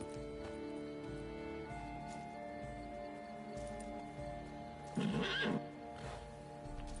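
A horse in the video game The Witcher 3 gives a short whinny about midway through, over a steady bed of game music and ambience.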